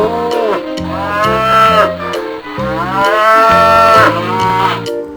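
A cow moos loudly and close by in long, drawn-out calls that rise and fall, repeated across several seconds with no other sound around.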